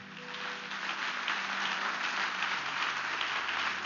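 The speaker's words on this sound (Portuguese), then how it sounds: "Pode aplaudir o Senhor." Steady applause from a large church congregation during a service, dense and continuous clapping holding at an even level throughout with no voices standing out.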